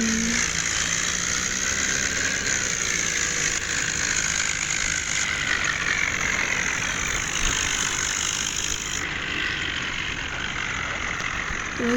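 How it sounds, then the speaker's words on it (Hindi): Tractor engine running steadily and loud throughout a tractor tug-of-war contest, a constant close rumble with a bright mechanical whine and no talk. "तो सीधे मिस्सी वाले का ट्रैक्टर जीत गया"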